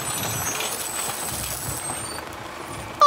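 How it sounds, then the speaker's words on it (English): A big green dump truck idles at a construction site with a steady low rumble and faint high whine, then a sudden loud burst at the very end, with no speech. "Whoa! It's a big, green dump truck. What do you hear?"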